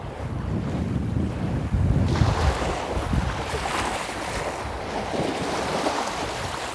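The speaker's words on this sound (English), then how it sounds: "the water sounds so relaxing" Waves wash onto a Toronto beach in February, a broad steady surge of surf heavily mixed with gusting wind buffeting the microphone, continuous and close without any talking.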